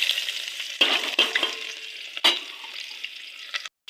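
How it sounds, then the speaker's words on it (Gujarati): Garlic and onion fry in hot oil for a Gujarati pea dish, a faint steady sizzle broken by a few sharp stirring scrapes close by, with no one speaking. "તેલ આવી ગયું એટલે લસણ ને ડુંગળી પહેલાં કકડી નાખી"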